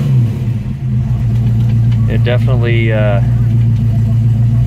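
A 1965 Ford Mustang fastback restomod idles with a steady deep rumble, then its engine revs up sharply in one quick blip and falls back to idle, while someone talks over it.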